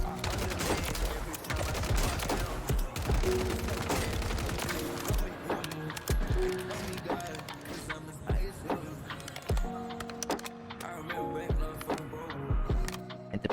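Rapid automatic gunfire from an assault rifle loadout in Call of Duty Warzone on Rebirth Island, dense bursts of close, loud shots running continuously with brief pauses.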